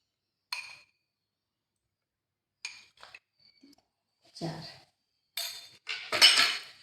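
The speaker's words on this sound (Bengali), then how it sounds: "চিনি, দুধ আর কর্নফ্লাওয়ারটা খুব ভালোভাবে দুধ ঠান্ডা অবস্থাতেই মিশিয়ে নিতে হবে" A spoon mixes sugar, milk and cornflour in a bowl for fried milk, giving a few separate close clinks and scrapes with quiet gaps between, the last burst the loudest.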